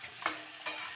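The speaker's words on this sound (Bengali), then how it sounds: "দেখো এখন আমি মশলার সঙ্গে মাংসটাকে কষানো হচ্ছে।" Chicken cooks in a pan with fried onions and spices, sizzling steadily while a spatula scrapes through it twice, each a short stir close by.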